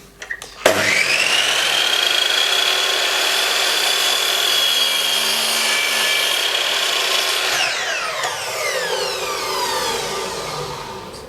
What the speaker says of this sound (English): I'm going to cut this and then cut the other leg